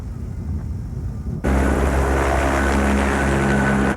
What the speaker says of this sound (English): Prepare for incoming chopper.